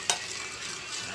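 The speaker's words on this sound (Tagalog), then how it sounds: "Sa haluin po natin yan." A spoon briskly stirs dalgona coffee mixture in a close, steady scrape, with a brief louder clink near the start.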